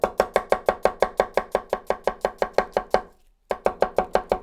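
A light, highly polished Chinese cleaver chops onions on a board in a fast, even rhythm of loud, close knocks. It pauses briefly once, then picks up again at the same pace.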